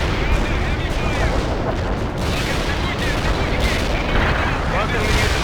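Heavy gunfire and artillery from World in Conflict roar as a dense, continuous battlefield barrage of overlapping booms and shots, with voices faintly mixed in.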